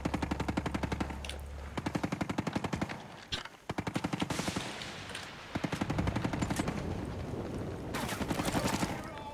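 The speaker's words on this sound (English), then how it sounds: "Who's shooting?" Rapid video-game gunfire in bursts of machine-gun fire and single shots, loud and continuous through most of the stretch with brief gaps, over dense background game sound.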